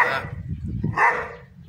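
A dog barks outdoors in the Murgap district of Mary, Turkmenistan, giving a couple of sharp, loud, close barks separated by a short pause, with voices nearby.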